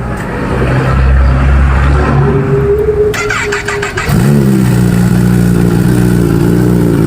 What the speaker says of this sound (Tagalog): Cold start ZH2.